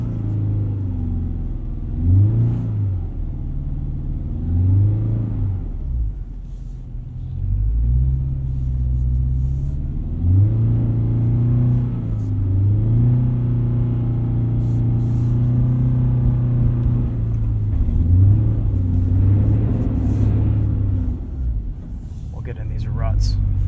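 A 2022 Subaru BRZ on Falken Winterpeak F-Ice 1 winter tires spins its wheels in wet snow and slush, its engine rumbling and revving up and down steadily throughout, with a voice talking over it.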